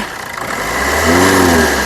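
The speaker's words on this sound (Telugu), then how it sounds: "ఇంజిన్ యొక్క నాయిస్ కూడా సైలెంట్గా అయితే ఉందండి" The diesel engine of a 2019 Maruti Suzuki Brezza ZDI Plus idles close by with a steady low rumble that swells slightly toward the end.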